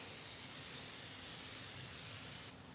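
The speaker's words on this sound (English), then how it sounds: "And then we want to go ahead and spray it." A spray paint can hisses in one continuous, close, steady burst for about two and a half seconds, then cuts off abruptly.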